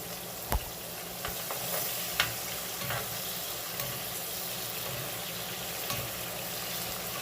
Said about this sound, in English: I just saute my seasoning